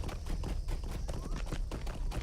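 Horse hooves galloping as a mount is ridden in the Lord of the Rings Online game, a fast, even clip-clop rhythm that stays close and steady throughout, with no voices.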